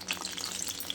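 Vanjaram fish pieces hit hot oil for a deep fry, a close, dense, steady sizzle and crackle lasting the whole moment, with no one speaking.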